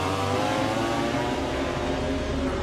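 Ducati MotoGP motorcycle engine racing at Motegi during the Japanese Grand Prix, a loud sustained high-revving whine holding steady throughout as the bike runs downhill.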